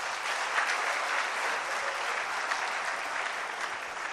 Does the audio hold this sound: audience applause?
yes